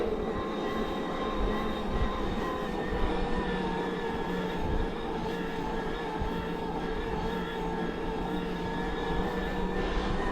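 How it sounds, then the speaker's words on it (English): A Bosch motor on a Bulls Copperhead EVO AM 3 e-bike runs steadily with a high-pitched whine and a constant hum, not loud, all the way through with no pauses. "So I would say the motor is not loud, but it does have a higher frequency kind of whine to it"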